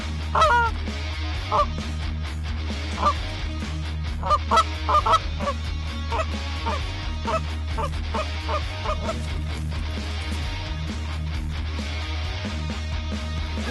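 Flocks of Canada geese honk over Kansas, their calls coming in scattered bursts and overlapping clusters at moderate distance above a steady background rumble.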